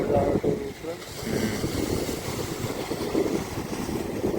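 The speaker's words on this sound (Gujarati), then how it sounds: "આ બોટ પાછી જાય દરિયામાં" A fishing boat runs out to sea at full speed, its engine a rumbling drone mixed with wind buffeting the microphone and water noise, with someone talking over it.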